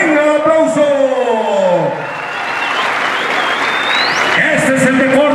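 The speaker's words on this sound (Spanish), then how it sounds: "¡Venga el aplauso!" A crowd at a rural fandango dance event claps and cheers under a loud announcer's voice, the applause swelling in the middle as speech briefly drops away, then talk resumes over it.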